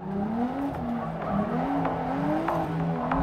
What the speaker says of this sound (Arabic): يجي هون على الحلبة بسيارته، طب بشحط وبروح